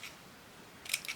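A pair of scissors snips paper in one or two quick, faint cuts near the end of a quiet moment.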